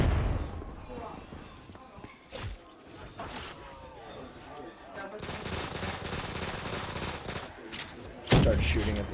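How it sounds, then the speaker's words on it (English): Gunfire on a zombies map in a video game, continuous clattering shots building through the second half, moderately loud and mixed with other game sounds and voices talking. "Start shooting at the same time"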